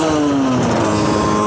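Motorcycle engine held at full throttle, its loud revving note climbing slowly and steadily as the bike struggles to pick up speed, with no quick surge.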